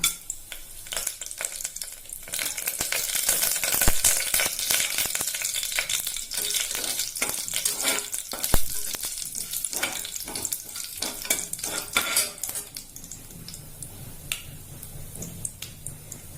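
Whole fennel seeds, cinnamon, cardamom and bay leaf sizzle and crackle loudly in hot oil for a white kurma, a dense steady frying hiss with occasional sharp pops and stirring scrapes.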